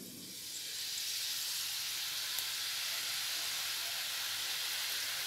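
Gram flour dough pressed into hot oil fries with a steady, dense hiss that swells in after a quiet start and holds evenly, close and moderately loud.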